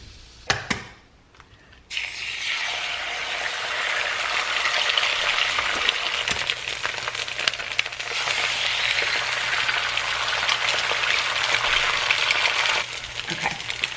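Two eggs hit an overly hot pan on the stove and sizzle loudly, a bright continuous crackle and spatter that starts abruptly after a few light clinks and holds steady to the end.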